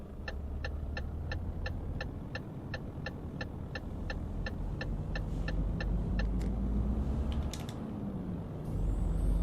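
Truck driving along a European highway in Euro Truck Simulator 2 in Italy, a steady low engine and road rumble with a regular ticking indicator clicking through most of it.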